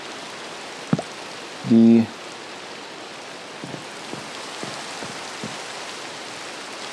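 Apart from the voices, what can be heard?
rain falling in Minecraft, from a video game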